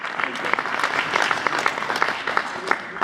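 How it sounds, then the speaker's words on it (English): An audience claps in welcome at a commemoration event, a dense, steady burst of many hands clapping, fairly close and continuous for the whole stretch. "round of applause for Aubrey."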